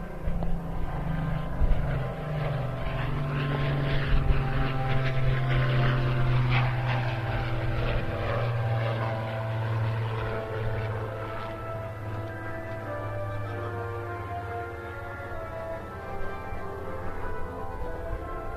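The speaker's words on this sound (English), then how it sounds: "Spitfire PR19 of the Rolls-Royce Heritage Flight" A Spitfire PR19 of the Rolls-Royce Heritage Flight flies past at a seaside air show, its piston engine giving a loud, sustained propeller drone that swells and then slowly fades over nearly twenty seconds.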